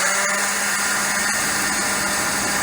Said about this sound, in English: sorry about the noise of the blower.